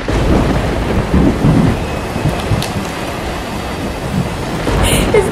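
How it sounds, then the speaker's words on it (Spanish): Thunder rumbles through a heavy rainstorm outside a home, deep rolling booms rising and falling over a constant loud hiss of pouring rain, with no talking. "Está tronando. Está tronando afuera."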